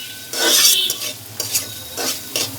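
Chicken mince sizzling and frying in a pan with a little water, stirred in several bursts, each scrape and sizzle rising and fading, close and clear with no talking.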